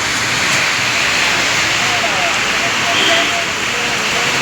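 Heavy rain pours down during a thunderstorm, a loud, steady, close roar of rainfall with no breaks across the whole stretch.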